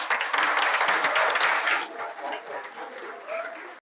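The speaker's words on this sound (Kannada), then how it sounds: "ಮತ್ತೊಮ್ಮೆ ನಮ್ಮೆಲ್ಲರ ಅಭಿನಂದನೆಗಳು ಚಪ್ಪಾಳೆಯ ಮೂಲಕ" An audience claps at a Swami Vivekananda Jayanti national youth day dance-drama programme. The applause is loud and dense at first, then thins and fades over the last couple of seconds.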